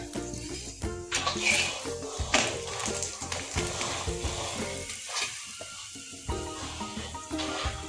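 Oil sizzles on a spicy bhakri flatbread on a griddle, a steady crackling fry with scattered taps and stirring clatter, close and moderately loud.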